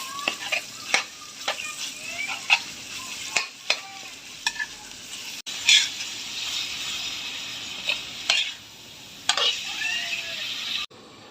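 Pork stir-frying in a pan with chili and garlic, a steady sizzle broken by repeated clinks and scrapes of a utensil against the pan, close and fairly loud with no talking.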